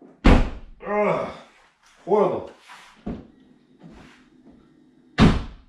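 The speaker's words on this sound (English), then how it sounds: "the thing that I noticed the moment I purchased this vehicle is the doors. Check the sound." Car doors on a VW Passat shut with solid thunks, one near the start and another near the end, while someone speaks briefly between them.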